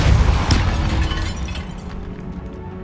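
A Depulso force-push spell cast in Hogwarts Legacy on PS5, inside a tomb near a sarcophagus: a loud burst that pops and cracks like a small explosion, then a shattering rumble that slowly fades.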